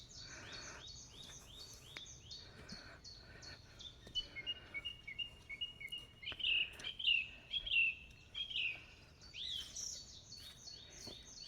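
Forest birds on a June morning: repeated bright chirping and whistled song phrases, clear and fairly close, rising to a lively series of loud notes over soft woodland background, with no talking.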